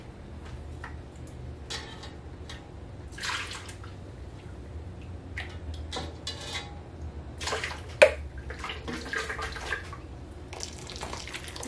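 Water splashes and pours in uneven bursts into a cooking pot holding pork trotters, with clinks and drips between pours, close and moderately loud, no speech.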